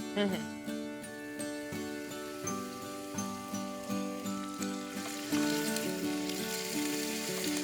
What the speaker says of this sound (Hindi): So first we'll add the onion.